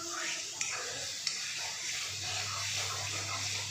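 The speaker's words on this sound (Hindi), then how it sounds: "देखिए, मसाला मेरा इस तरीके से भुनने लगा है।" Masala being stirred and roasted in a pan for matar paneer, a steady broadband sizzle with scraping stir strokes and a couple of sharp clicks of the spoon against the pan, close and continuous with no talk.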